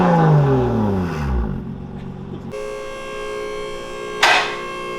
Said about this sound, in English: Give us some revs out of the Beamer so we can hear what it sounds like.